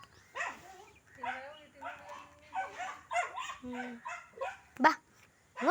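A pet dog barks, yips and whimpers close by while a person calls out to it over and over, the dog's sounds coming in short bursts between the voice.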